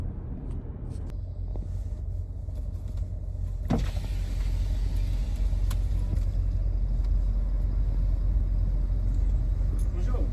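A car driving along a road, with steady low engine and tire rumble throughout and a brief thump partway through; no voices.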